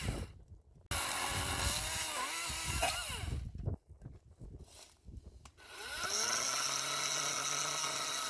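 Einhell cordless chainsaw cutting through logs, a loud steady motor whine broken by bursts of bucking and rising pitch sweeps as the chain bites wood, with brief pauses between cuts and a sustained high run at the end.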